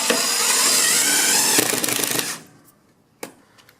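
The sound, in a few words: power drill driving screws into fireplace bracket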